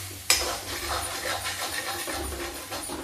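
Potato and eggplant chokha gets stirred in a pan with only a little oil: a sharp utensil knock against the pan, then steady scraping and light sizzling, close and continuous with no talk.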